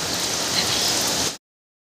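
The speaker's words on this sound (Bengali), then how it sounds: "এখানে প্রচণ্ড পরিমাণে বৃষ্টি হচ্ছে" Heavy rain pours down in a dense, even hiss for just over a second, then cuts off abruptly into silence.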